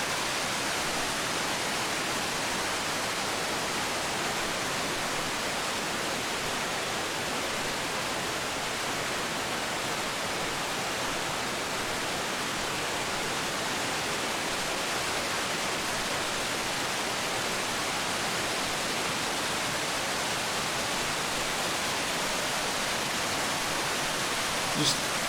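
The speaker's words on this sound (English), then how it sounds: "Just quite an interesting waterfall." Eurobin Falls on Mount Buffalo, a constant dense rushing roar of falling water, steady and unbroken from start to finish, close and enveloping with no other sounds standing out.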